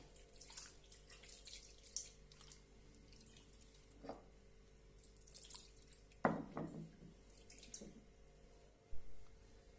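Water splashes and drips as a new grinding stone is washed clean, faint scattered splashes and trickles with a few sharper splashes near the middle, quiet and close, with no voices.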